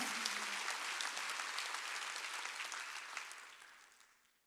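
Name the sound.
congregation applause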